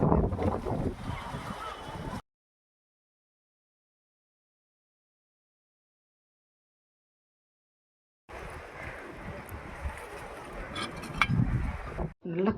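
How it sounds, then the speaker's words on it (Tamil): Strong wind gusts over a rooftop terrace garden as rain approaches, a steady rough roar buffeting the microphone, broken by a long silent gap before the blustery rush returns. "நல்ல காற்றுங்க, சரியான காற்று."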